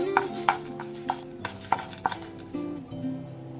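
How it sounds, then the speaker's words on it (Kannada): A spoon stirs urad dal frying in a pan, giving several sharp metallic clinks and scrapes over a low sizzle, close and clear with no one speaking. "1 ಸ್ಪೂನಷ್ಟು ಉದ್ದಿನಬೇಳೆ. ಸೊ ಒಳ್ಳೆ ಪರಿಮಳ ಬರೋ ತನಕ ಫ್ರೈ ಮಾಡ್ಕೊಳ್ಳೋಣ"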